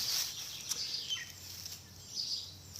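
Faint, high bird chirps at dusk in New Zealand as birds settle to roost, scattered over a steady outdoor hiss, with a few brief louder calls standing out now and then.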